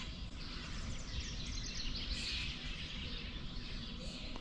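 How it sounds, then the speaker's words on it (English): Birds chirp and call on a spring morning at about 5:30 a.m. The sound is a faint, continuous chorus of overlapping tweets with some distance to it, and no talk is heard. "All you can hear is the birds."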